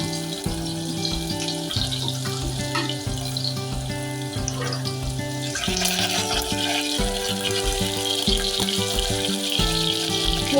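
Green chillies and garlic sizzle in hot tempering oil under a tonal musical background, with the crackle growing brighter partway through.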